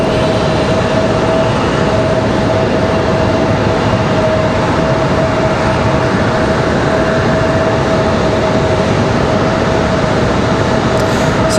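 An Air Canada Airbus A321 arrives at Raleigh-Durham airport from Charlotte. Its engines make a constant, loud, close roar with a steady whining tone running through it, unbroken for the whole stretch.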